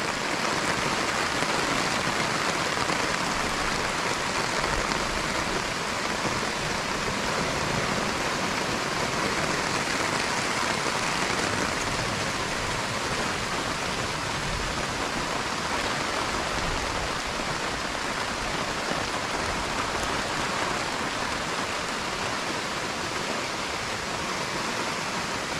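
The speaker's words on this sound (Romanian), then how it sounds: "Dar plouă bine, ia uite aici." Heavy rain pours down steadily during a powerful mountain storm, a dense, continuous hiss of drops drumming on surfaces, loud and close throughout with no talking.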